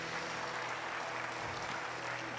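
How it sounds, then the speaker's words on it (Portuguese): A church congregation applauds during a worship service, a steady, fairly faint wash of clapping with a low hum running beneath it. "Uma salva de palmas para o Senhor Jesus."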